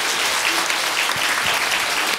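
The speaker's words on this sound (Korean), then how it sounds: "우리 다시 한번 박수하겠습니다." Audience applause following a church choir's hymn performance at a Sunday worship service, a dense steady wash of clapping throughout with no talking over it.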